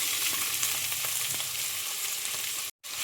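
Chopped onion frying in a pan for crab masala, a dense, steady hiss of sizzling oil with faint stirring ticks, close and continuous before a brief cut to silence.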